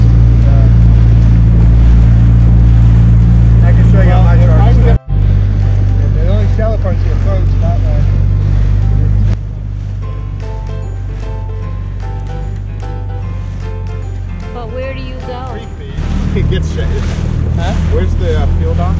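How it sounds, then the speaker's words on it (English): A small dinghy motors across open water toward Staniel Cay, its outboard engine a loud, steady drone with a brief dropout partway through. "We're heading into Staniel Cay in SB Seduction's dinghy because he needs fuel right away."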